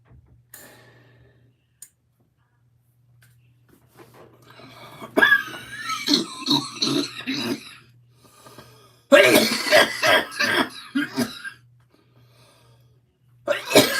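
Coughing fits after a cough drop went down wrong: two loud, harsh bursts of repeated coughs and choking gasps up close, separated by quiet, with a low steady hum underneath.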